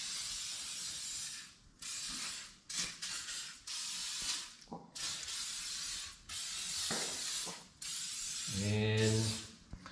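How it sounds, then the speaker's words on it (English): WD-40 sprayed in several short and longer hissing bursts inside a snowblower's auger housing, close up, with brief pauses between sprays and a faint mechanical clunk near the end. "I'm gonna spray some WD-40 inside to protect it"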